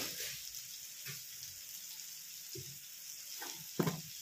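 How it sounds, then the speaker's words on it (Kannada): Cumin seeds frying in hot oil for a North Karnataka-style brinjal dish: faint, steady sizzling with a few soft stirring knocks, close but quiet, ending in a slightly louder scrape. "ಸ್ವಲ್ಪ ಜೀರಿಗೆ ಹಾಕ್ರಿ"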